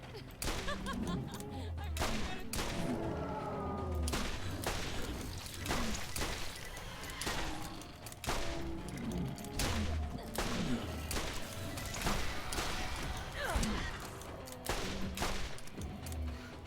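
Rapid weapon fire in the video game Borderlands, repeated sharp shots and bursts with explosions crackling throughout, loud and dense, a voice faintly underneath.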